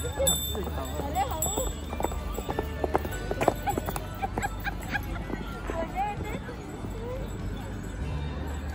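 Horse hooves clip-clop steadily during a ride near Venna Lake in Old Mahabaleshwar, close and rhythmic, mixed with the babble of a crowd and nearby voices.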